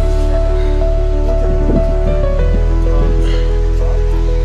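A river flows past Pashupati temple, its broad, continuous rush steady and fairly loud, with sustained droning tones layered over the water.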